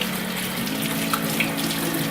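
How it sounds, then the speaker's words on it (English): Water pouring steadily from a tap while shampoo is rinsed out of a bleached hair frontal, a loud, close, unbroken rush and splash lasting a couple of seconds, with no talking. "I'm just going to rinse it off now, and I am rinsing it out"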